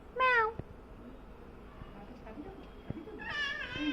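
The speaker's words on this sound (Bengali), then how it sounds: "তোকে দেখে ম্যাওরা ভয় পাচ্ছে" Cats meow near a house during a Buddha Purnima puja gathering, with one loud meow at the start and another drawn-out meow at the end, while a quiet room murmur fills the gap.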